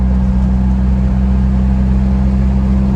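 A Jeep Wrangler driving on its first outing after sitting unused, with a steady, loud low engine drone and droning harmonic hum heard from inside the cab, unbroken throughout.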